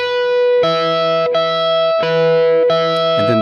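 Distorted electric guitar slowly repeating a movable classic rock lick in four clear, evenly spaced phrases, loud and close with sustained ringing notes and no talking.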